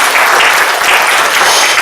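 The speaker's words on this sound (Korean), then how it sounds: "반주자님, 박수 한번 보내시기 바랍니다." A church congregation claps for the accompanist, a loud, dense and steady burst of many hands filling the room evenly for a couple of seconds.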